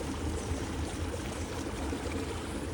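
Hot spring water near Arenal Volcano bubbles and gurgles in a close, continuous wash of watery noise that stays steady and fairly quiet throughout.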